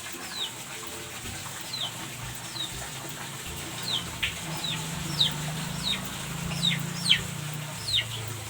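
Native chickens clucking, with repeated short sharp clucks and calls scattered through a steady low background, moderately near and growing a little busier toward the end.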